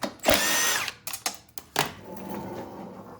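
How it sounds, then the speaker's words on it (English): A power drill spins out bolts on a Cub Cadet string trimmer, with one sustained whir followed by several short bursts and clicks, close and clear. "All right, got a couple bolts here to take off."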